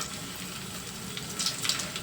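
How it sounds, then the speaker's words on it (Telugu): A steady, hissing sizzle of tempering spices and garlic frying in oil fills the clip, with faint crackles popping near its end. "ఈ పోపు దినుసులు ఇలా వేగుతూ ఉంటే"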